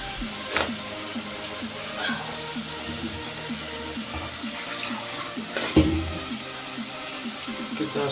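Water is poured into a pan of cooking chicken curry, making a soft continuous pouring hiss under faint kitchen sounds, with a couple of brief clinks.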